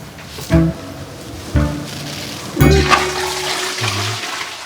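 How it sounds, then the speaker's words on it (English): A toilet flushes loudly and alone, with a few sharp surges of rushing water followed by a steady draining swirl and refill. "Did you flush?"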